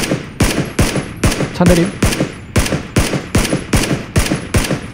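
Rapid automatic gunfire in the battle royale game PUBG, a loud close burst of about a dozen evenly spaced shots over five seconds, with brief speech mixed in.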